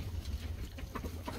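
Chickens in a backyard coop cluck softly and continuously, a low, close murmur of fowl calls with a few brighter clucks toward the end.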